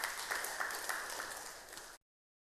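An audience at a church sermon on the Holy Spirit bursts into applause, a dense, fairly faint wash of clapping that lasts about two seconds before cutting off abruptly.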